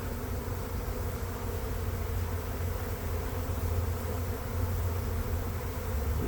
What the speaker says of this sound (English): But it's a deafening roar. Not a huge swarm, I don't think.